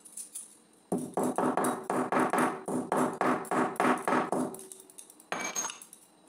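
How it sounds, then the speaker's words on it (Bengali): Cardamom pods are crushed with a steady run of about a dozen close, sharp knocks in an even rhythm, then a pause and one final strike. "এলাচটাকে থেতো করে দেব"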